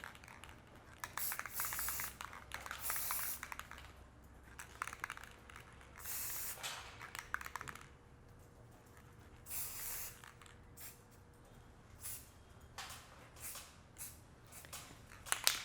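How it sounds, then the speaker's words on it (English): Spray paint hisses through a stencil onto a mirror in repeated short and long bursts, some heavy and some light, close to the mic with small handling clicks between sprays. "I sprayed a little bit more harsh in other places and a little bit lighter in the other places"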